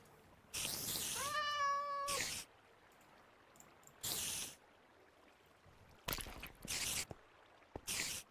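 A Minecraft cat meows a few times in short bursts, fairly close, separated by quiet gaps and small clicks, with no talking.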